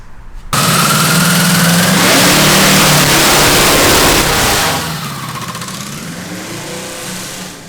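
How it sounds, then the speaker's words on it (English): Custom 262 V8 fitted to a heavy go kart roaring loudly nearby, a rough, throaty rev surging for several seconds then easing back to a lower, rumbling idle. "From far away, it does not sound like a 262 V8, sir. It sounds closer to a NASCAR"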